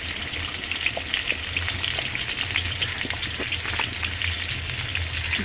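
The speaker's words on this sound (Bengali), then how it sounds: "ভেজে নিচ্ছি। হলুদ দিয়ে একটা ভাজবো।" Food frying with turmeric in hot oil, a steady dense crackling sizzle with fine popping spatters throughout, moderately close and even.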